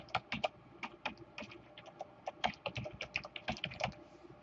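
Steady, fairly quiet keystrokes on a computer keyboard as a web address is typed in, an even run of close clicks with no voice.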